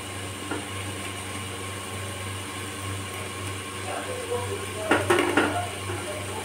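A spoon stirs chopped ginger and garlic into reddish-fried onions in a pan, giving soft scraping and a few sharp clinks of metal against the pan over a steady low kitchen hum.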